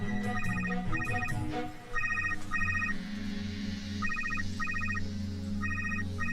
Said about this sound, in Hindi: रुको मैं फोन लगाती हूँ।